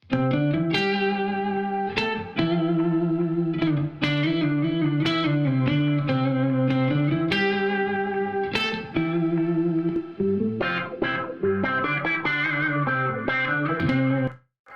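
An electric guitar plays a sustained, distorted solo with lingering echoing reverb, notes bending and shifting, ending in a faster flurry before fading.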